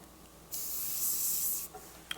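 An airbrush sprays paint while artwork is done on a motorcycle saddlebag, giving a close, bright hiss that starts abruptly, runs for about a second and then cuts off, followed by a faint short puff.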